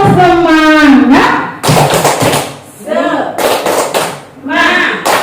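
Group of women doing a rhythmic spirit clap at a training session, loud bursts of patterned clapping and thumps mixed with chanted voices, pausing between phrases.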